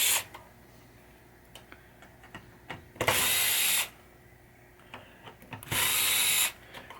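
A power tool backs screws out of pop bumpers on a 1967 Williams Blast Off pinball machine, two short loud whirring bursts separated by quiet clicks and handling noises.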